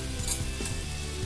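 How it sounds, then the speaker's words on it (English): Bitter gourd (karela) frying in a peanut-thickened masala for a sweet and spicy dish with jaggery, giving a steady, close, dense sizzle throughout with no talking. "I'm going to add the Karela to this now. So fry the Karela nicely in the masala."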